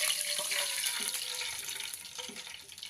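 A bowl of water poured into a cooking pot while preparing ukadiche modak dough, giving a steady close splashing and trickling wash of water that tapers off near the end, with no voices.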